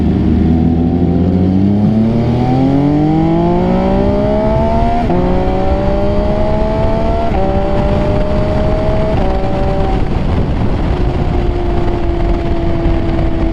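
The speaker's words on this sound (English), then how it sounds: "That damn SC Project exhaust gets me every time." An MV Agusta F3 motorcycle with an SC Project exhaust rides hard through a neighborhood, its loud, raspy engine climbing in pitch through several rising sweeps with gear shifts between, then settling to a steady tone.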